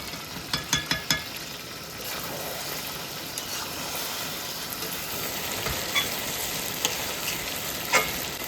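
Duck meat spiced with Kashmiri chilli powder sizzles steadily as it is sautéed in a pan, opening with a quick run of sharp spatula taps, then a continuous close frying hiss with occasional scrapes. No one speaks.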